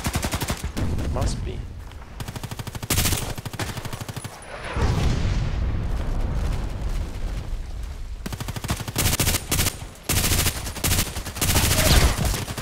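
Rapid bursts of RPKT machine gun fire from the shooter game Contract Wars, loud dense rattling volleys broken by short pauses, with a voice speaking briefly over the shooting.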